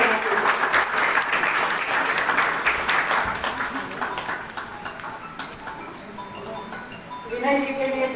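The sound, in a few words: loud applause welcoming a speaker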